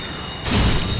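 A fire bomb explodes in Dark Souls 3, a sudden loud burst that cuts in midway and leaves a broad roaring rumble with crackle behind it.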